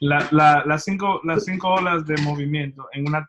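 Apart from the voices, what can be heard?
No distinct noise like a dog, phone or traffic.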